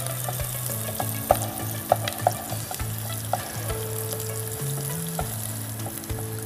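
Onions frying in oil for mutton korma: a faint, steady sizzle under low tonal hum, with a few sharp clinks of a spoon stirring against the pan.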